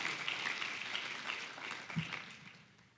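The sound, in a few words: conference audience applause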